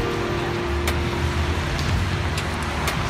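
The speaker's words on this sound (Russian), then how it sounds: "А вот и дождик питерский." Steady rain falls on a Saint Petersburg street in the evening, a constant close hiss over the low rumble of passing cars, with no voices.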